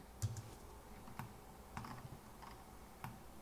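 Keys clack on a computer keyboard while someone types a value into Blender, a handful of separate, quiet, close taps spread unevenly over a few seconds with no talking.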